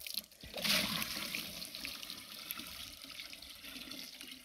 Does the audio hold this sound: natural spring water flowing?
yes